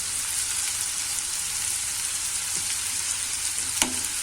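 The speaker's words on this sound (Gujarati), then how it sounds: "આ રીતના બધું મિક્સ કરી લેશું" Turmeric and chutney spices are mixed into a bottle gourd curry frying in a pan: a constant bright sizzle close by, with a soft scrape midway and one sharp spoon tap near the end.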